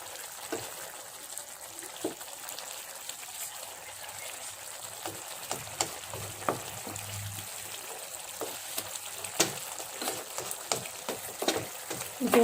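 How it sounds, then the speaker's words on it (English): Steady low bubbling and sizzling of palak chicken masala simmering in a pan, with occasional faint clicks and stirring scrapes, continuous and fairly quiet throughout. "the chicken has been boiling here"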